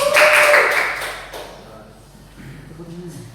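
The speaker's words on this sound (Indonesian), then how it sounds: "Ya, tepuk tangan." Classroom students clapping their hands in a short loud burst that fades within about a second, followed by a quieter stretch of low voices.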